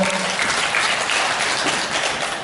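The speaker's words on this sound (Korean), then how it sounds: "다시 한번 박수 부탁드립니다." Audience applause at a Korean Women's Week commemorative lecture event, a steady, dense clapping from a seated crowd filling the room for a few seconds without a break.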